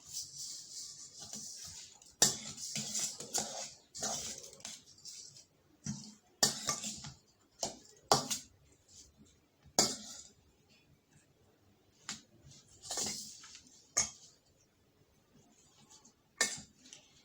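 Utensils stir carrot salad in a bowl with irregular clinks and taps, each sharp and close, separated by quiet gaps.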